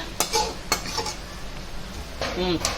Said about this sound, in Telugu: ఇప్పుడు మనం కాళ్ళు వేసుకుందామండి ఇందులోనా.